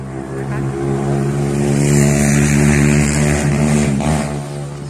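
Vehicles pass on a road right beside a rural home in Khun Han, Sisaket, where village chickens are kept. A steady, fairly loud engine drone swells and fades as traffic goes by, with no talking.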